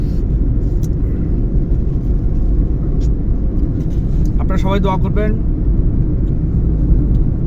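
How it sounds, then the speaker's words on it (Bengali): Inside a small private car driving slowly on the road, a steady low engine and road rumble fills the cabin while someone speaks briefly over it. "নিজের গাড়ি চালাচ্ছি সেজন্য একটু ধীরে সুস্থে চালাতে হয়"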